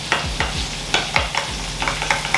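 A spoon stirs a creamy dill sauce, scraping and swishing in steady rhythmic strokes, close and clear with no voices.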